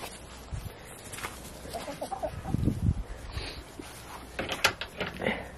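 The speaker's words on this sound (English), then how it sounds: "There's a chicken laying an egg." Free-range hens cluck and chatter as they are let out of a coop door on a homestead, scattered calls near and far over soft rustling, with no talk.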